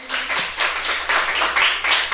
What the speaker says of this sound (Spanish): Denle una fuerte ofrenda de palmas al Señor